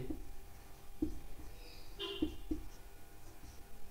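Pen strokes of handwritten answer notes, quiet and close, with a few sharp taps and short scratchy strokes spaced about a second apart over a faint background hum.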